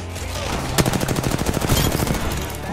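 Gunfire in the video game Apex Legends: a loud, close burst of rapid automatic shots in a steady rattling rhythm lasting a couple of seconds.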